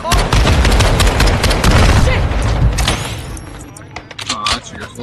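Rapid gunfire from a first-person shooter game, loud dense bursts filling the first three seconds, then fading into scattered shots and game sounds, with a player talking over it.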